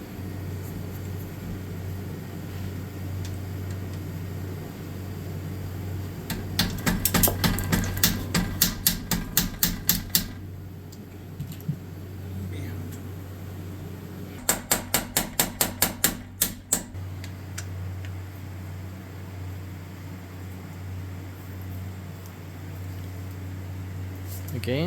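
A bolt is tightened into a held nut on a Swift CVT frame, giving two bursts of rapid ratchet-like clicking over a steady background hum.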